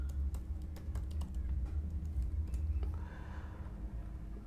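A computer keyboard is typed on at a quick, irregular pace while an email address and password are entered, with soft close keystrokes over a low steady hum and no talking.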